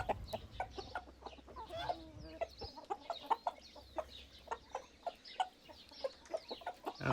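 Chickens and roosters clucking in a backyard flock, a steady run of short, close clucks in irregular rhythm with a few louder calls, over faint low background hum.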